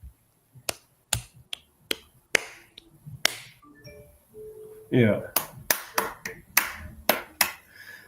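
A livestreamed lesson on limericks with hands clapping out syllables in uneven bursts of sharp, close single claps separated by pauses, with a brief spoken word and a quick flurry of claps in the middle.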